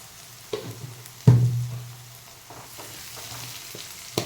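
Chopped onions frying in a pan for a masala dhosa ball recipe, a steady soft sizzle with a sharp burst of hissing as something is stirred or added, then a few light utensil taps against the pan.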